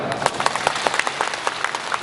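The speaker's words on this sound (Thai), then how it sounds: "ขอเสียงปรบมืออีกครั้งนะครับ" A seated audience at a live magic show in Chiang Mai claps, fairly close and loud, the individual claps distinct within a brisk, roughly rhythmic patter that stays steady for the whole stretch.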